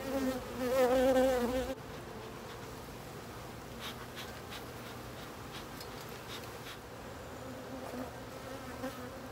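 Honey bees buzzing in a hive box, a loud close swarm hum at first that drops to a softer continuous drone, with faint handling sounds and no talking.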